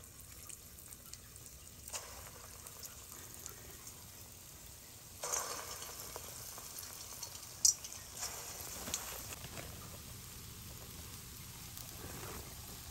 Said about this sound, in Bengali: এবার গরম তেলের ভিতর আমি ছোট ছোট করে বড়াগুলো ছাড়বো।